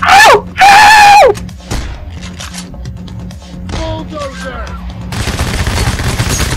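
Gunfire in the video game PAYDAY The Heist, a bank heist at First World Bank: bursts of shots and a rattling fusillade come under shouting and a shrill scream, with brief talk in between.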